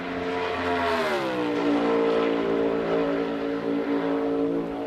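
A loud NASCAR Cup Series stock car engine drones steadily on a track during qualifying, its pitch rising and then holding as it roars past at speed.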